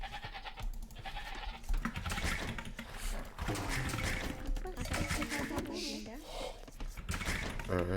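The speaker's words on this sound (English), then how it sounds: "there is the next sheep" Sheep bleat several times in a medieval real-time strategy video game, mixed with game sound effects and running under steady talk.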